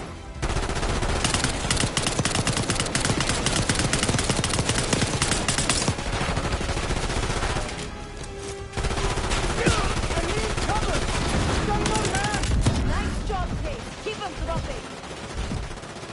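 Gunfire in the Black Ops 6 campaign: dense, loud automatic bursts rattle almost continuously, break off briefly, then resume with rapid shots mixed with game voices talking.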